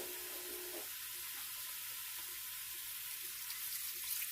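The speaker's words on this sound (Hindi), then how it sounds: "तो इसमें हम 1 कप वाटर डाल के" Water is poured from a cup into a cooking pot of mutton and chopped onion. A short, quiet splash is followed by a soft, steady hiss.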